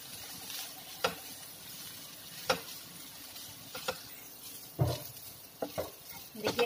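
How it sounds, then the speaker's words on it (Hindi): Keema with green chillies fries gently in a pan over medium heat under a soft, low sizzle, with a spoon scraping and tapping against the pan every second or so. "ऐसे लगभग 3 से 4 मिनट के लिए ऐसे चलाते हुए हल्का हल्का फ्राई कर लें"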